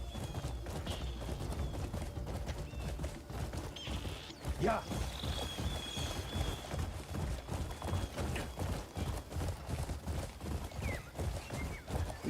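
Horse hooves clip-clop in a steady rhythm through the Crimson Desert video game. A neigh and faint creaks come in along the way, and a voice speaks briefly.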